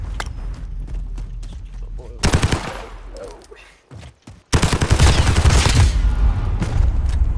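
Rapid bursts of automatic gunfire in a shooting video game crackle loudly in two dense volleys, with a player's voice talking over the shots and a short lull between them.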